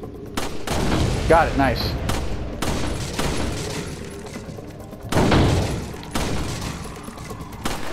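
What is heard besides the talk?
gunshots in Resident Evil 4 shooting gallery, video game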